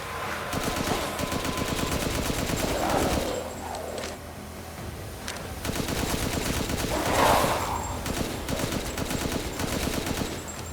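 Rapid automatic gunfire in the Resident Evil Village video game, sustained bursts rattling almost continuously with brief pauses, loud and close, no voices.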